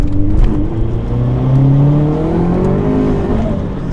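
Turbocharged Subaru BRZ / Toyota 86 engine revving steadily while driving, a loud, continuous engine drone whose pitch rises and falls across the stretch with no talk over it.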